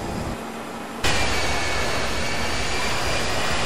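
ERJ-145 regional jet engines heard from outside in a flight simulator, a steady loud broadband roar that snaps on abruptly after a second of quieter hum and holds constant.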